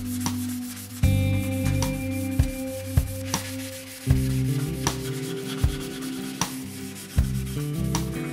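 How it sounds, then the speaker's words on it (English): Abrasive pads rubbing down the finish on a Firebird guitar body, repeated rhythmic scrubbing strokes roughly every second, close and steady, with no voices. "so that's everything now rubbed down to 1200 grit."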